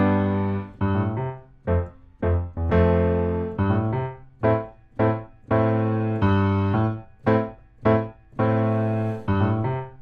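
Piano playing a song with both hands, steady rhythmic chords over a low bass line, the notes repeating in even, sustained strokes with short gaps, close and clear, no voice.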